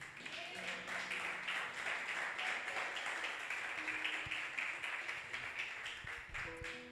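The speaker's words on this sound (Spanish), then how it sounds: "Denle un fuerte aplauso al Señor." A church congregation applauding during a Spanish-language service: steady, fairly faint clapping from many people throughout, with occasional voices and tones beneath it.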